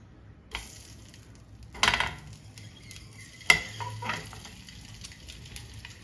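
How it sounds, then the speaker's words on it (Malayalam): Four scored eggs fry in oil with chilli powder and salt, sizzling steadily while a utensil clinks and scrapes against the pan in a few distinct, close stirring strokes, with no talk. "ഒരു 2-3 മിനിറ്റ് ഇതൊന്ന് ഫ്രൈ ചെയ്തെടുക്കാം"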